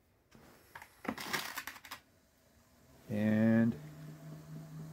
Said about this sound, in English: the motor is turning and the transmission is turning